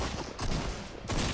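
Shotgun gunfire in the video game Fortnite sounds as a couple of quick, fairly quiet bursts of shots in a short burst of combat.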